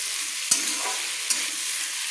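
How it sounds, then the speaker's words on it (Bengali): A pot of vegetable dal, sweetened with a little sugar, hisses with a constant bright sizzle while a spoon stirs it, giving two short sharp knocks against the pot about a second apart; nobody speaks. "সব কিছু দিয়ে আমি ভালোভাবে কিন্তু একসঙ্গে মিক্স করে নেড়ে নিলাম"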